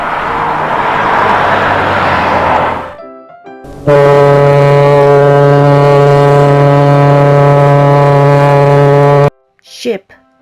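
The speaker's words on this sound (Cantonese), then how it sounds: "Ship" A ship's horn sounds one deep, steady blast lasting several seconds, close and loud, after a stretch of rushing wind and water noise. It cuts off abruptly, and a brief voice follows.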